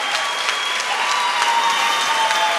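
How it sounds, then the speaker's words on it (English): An audience at a pizza awards ceremony in Milan applauds loudly and steadily, dense clapping from a large crowd filling the whole moment. "Amalia Costantini, ladies and gentlemen, a big applause"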